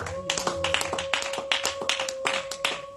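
A church congregation claps in steady, rhythmic hand claps close by, with a sustained tone underneath.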